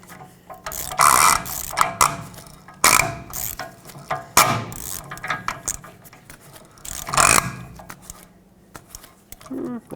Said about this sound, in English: I'm just going to keep tightening until it spins with very slight amount of pressure on it